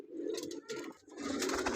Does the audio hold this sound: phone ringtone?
no